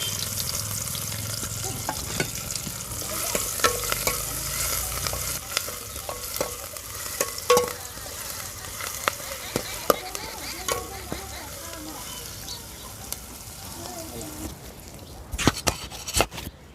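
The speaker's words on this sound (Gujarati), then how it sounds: "તો હવે જીરું નાખી દઈશું ડુંગળી નાખી દઈશું હવે મરચાં નાખી દઈશું" Cumin, onion and chillies sizzle in hot oil in a pan for a gunda bhaji shaak, with a steady close crackle and frequent clicks and scrapes of stirring throughout, and no voices.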